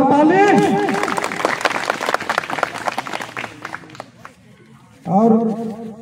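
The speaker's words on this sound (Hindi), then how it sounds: "एक बार जोरदार ताली।" A crowd at a Kurukh village political speech event breaks into loud applause and clapping, fading in intensity before a voice speaks over it near the end.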